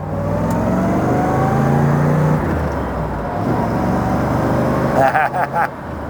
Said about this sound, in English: Give it a good little gas punch here.